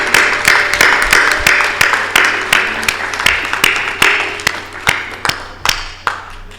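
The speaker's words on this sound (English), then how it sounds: "So please, big round of applause to all the content creator and the finalists." Scattered clapping from a crowd, with sharp individual claps standing out and thinning toward the end.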